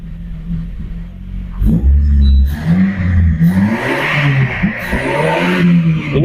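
A car engine revs hard and rumbles after a MAP sensor replacement, seemingly held back from climbing past 3000 rpm. The loud, close revving swells and dips over a voice in the background.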